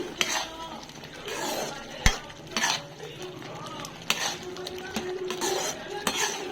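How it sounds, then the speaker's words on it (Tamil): Mushroom gravy being stirred in a pan with a utensil, producing repeated scraping and clinking strokes against the metal, with a soft sizzle underneath and occasional sharp taps, close and moderately loud. "ஆட் பண்ணி நல்லா கிளறிட்டு எல்லாம் ஒன்று சேர்கிற அளவுக்கு மிக்ஸ் பண்ணிக்கலாம்"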